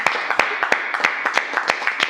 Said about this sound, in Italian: un applauso meraviglioso